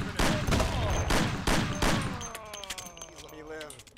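Loud shotgun blasts from Mafia, a police shootout during a chase, several heavy booming shots spaced about half a second apart, then fading into quieter scattered sounds and voices.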